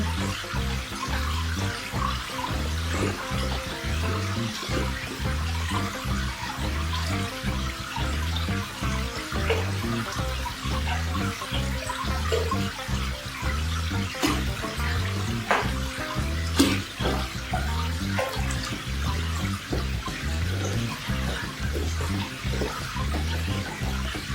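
Water pours steadily into a 450-litre aquarium, a constant close rushing splash with a filter running, continuous and unvaried for the whole stretch, with no one speaking.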